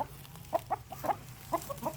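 Young Burmese game chickens on a farm cluck in a handful of short, soft bursts spread irregularly over a quiet background.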